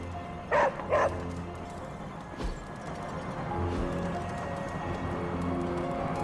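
Two quick, close barks from Charlie the dog in the video game Marvel Midnight Suns, then a faint thump and a low background rumble that carries on for several seconds with no voices.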